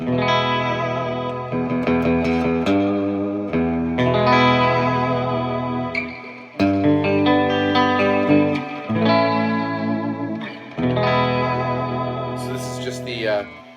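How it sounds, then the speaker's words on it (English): A Gretsch Electromatic G5420T electric guitar strums chords in phrases through an Analog Alien Rumble Seat pedal, drenched in lush reverb and chorus-like shimmer, each strum ringing out and overlapping the next. "I'm going to hit the reverb on that."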